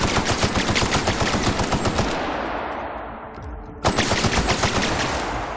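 Sustained machine gun fire in The Outer Worlds: a loud, rapid stream of shots that fades away mid-burst, then abruptly resumes as another fast rattling volley, with no voices.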